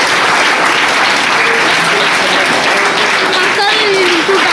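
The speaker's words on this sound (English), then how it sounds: "Please welcome them with a big round of applause" Sustained, loud applause from a school audience welcoming the chief guest to a student event in Hyderabad, dense and steady throughout with faint voices mixed in.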